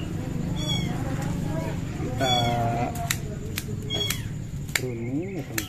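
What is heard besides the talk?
kittens meowing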